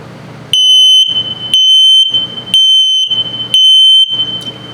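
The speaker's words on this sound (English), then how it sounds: "if it beeps very slowly, it's telling you your battery's low. So it's also a low battery alarm." A 2023 Flagstaff 176LTD tent camper's LP/CO detector gives its alarm: loud, shrill electronic beeps repeating in four even pulses, each about half a second long with short silent gaps between.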